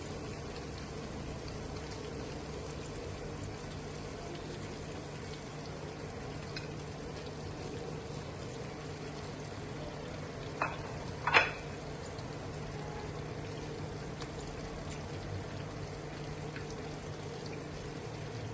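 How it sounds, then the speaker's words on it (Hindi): Half a kilo of mutton sizzles in a pan with fried ginger and garlic, a quiet, steady frying hiss with a couple of brief clinks partway through. "मटन को भी अच्छे से हमने फ्राई कर लेना है"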